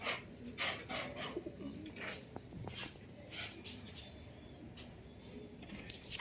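Racing pigeons in a loft of about seventy birds coo softly and intermittently, with occasional wing flaps and rustling amid quiet background noise; no talking.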